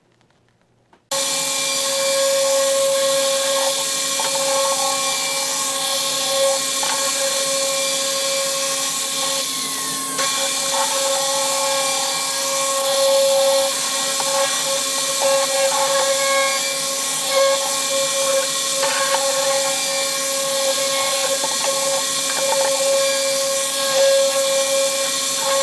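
Table saw running at a steady, loud whine with the blade set to 3/8 inch, cutting wood for a memories box; a continuous close tonal drone with small shifts as the wood feeds through.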